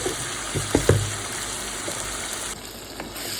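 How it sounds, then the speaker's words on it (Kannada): Tomatoes with salt frying in a pan, a continuous close sizzle with a few clinks and stirring bumps early on, settling into a steady hiss. "ಒಂದೇ ಸರ್ತಿ ರುಚಿಗೆ ನೋಡ್ಕೊಂಡು ಉಪ್ಪು ಹಾಕ್ಕೊಂಡು ಟೊಮೆಟೊ ಫ್ರೈ ಆಗೋ ತನಕ ಚೆನ್ನಾಗಿ ಬಿಟ್ಕೊಳ್ಳೋಣ"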